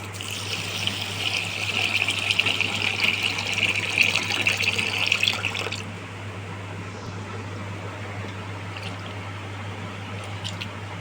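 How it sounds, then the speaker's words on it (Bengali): Rice being rinsed by hand under running water in a home kitchen, a close trickling splash with soft squishing of grains for several seconds, then a quieter steady stream, over a constant low hum. "চলো চালটা আমি ধুয়ে নিই"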